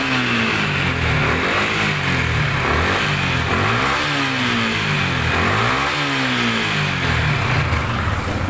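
Yamaha Sniper 155 motorcycle with a VVA fault, engine repeatedly revved up toward 7,000 RPM and let fall back, loud and close, with rising and falling engine pitch sweeps and no talk.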